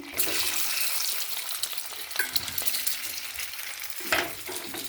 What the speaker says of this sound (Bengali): দিয়ে ডিমটাকে ভেজে নেব